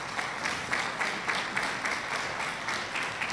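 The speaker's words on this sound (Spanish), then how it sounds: "Démosle un aplauso a la hermana Clemen" A church audience applauds, many hands clapping in a steady, moderately loud rhythm that rises and falls in waves.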